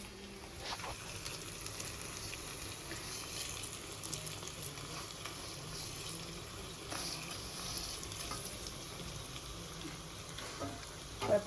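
A pan of kantola vegetable curry with sev and gathiya is stirred over heat, making a soft, steady sizzle with faint scraping of the spoon, quiet and continuous, with no speech.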